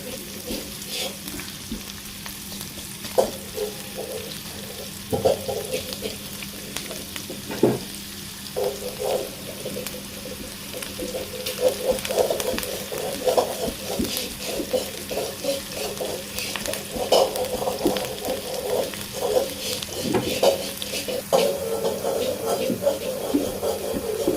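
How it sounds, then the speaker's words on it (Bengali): Food fries in a pan for a homestyle pointed gourd bhaji, with a continuous soft sizzle punctuated by scraping and clinking stirs, and a voice speaks intermittently. "এগুলোকে ভালোভাবে ভেজে নিতে হবে"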